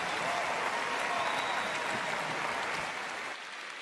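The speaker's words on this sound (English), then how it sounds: "Encore une fois, nos applaudissements pour son Excellence le vice-président du Kenya" Large audience applauding Kenya's vice-president at a youth conference, loud continuous clapping that eases slightly toward the end.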